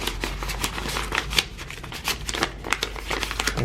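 Paper banknotes riffled and counted by hand while being stuffed into a cash budget envelope, a quick run of soft crisp flicks and rustles at close range with no talking.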